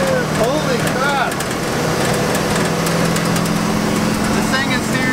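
A loud RV engine drones steadily and close inside the cab with a constant low hum, while voices talk over it throughout.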